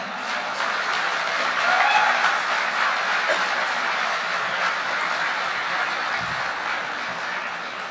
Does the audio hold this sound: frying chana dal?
no